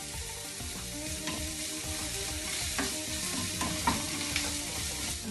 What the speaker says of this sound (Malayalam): സവാളയും പച്ചമുളകും കൂടി ഇട്ട് കൊടുക്കാം.